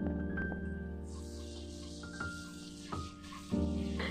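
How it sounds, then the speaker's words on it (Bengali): An inch-long cinnamon stick fries in hot oil over a medium flame for palak paneer, giving a soft, steady sizzle with occasional light clinks and taps close by. "দিয়ে দিলাম 1 ইঞ্চির মতো দালচিনি আর সেটাকেও কয়েক সেকেন্ড ভেজে নিলাম।"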